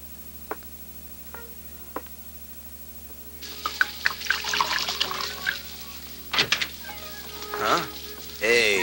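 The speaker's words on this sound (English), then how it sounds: "Okay if I open it and pour us a drink" Wine pours into a glass with a gurgling, trickling splash after a few sparse ticks, and a voice briefly sounds over it.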